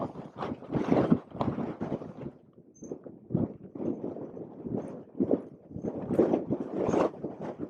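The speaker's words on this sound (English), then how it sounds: "It is so windy." Strong wind gusting across the open grounds of the Very Large Array radio observatory, buffeting the microphone in loud, uneven bursts that swell and ease throughout.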